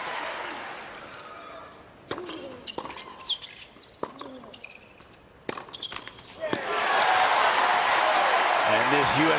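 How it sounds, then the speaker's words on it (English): Tennis shots pop back and forth during a rally at the 2024 US Open on the Grandstand court, then the crowd breaks into loud, sustained applause and cheering as a commentator talks. "This USA crowd is really starting to get behind Tommy Paul now on grandstand."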